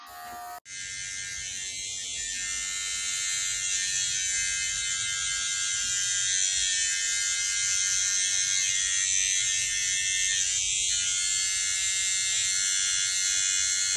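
Electric hair clippers buzz steadily and loudly at close range, a continuous high-pitched motor whine running unbroken for the whole stretch.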